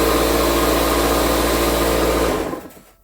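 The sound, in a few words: air compressor running in the workshop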